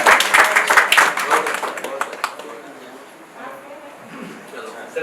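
Burst of clapping from an awards ceremony audience, dense at first then thinning and fading out over a few seconds, heard beneath speech.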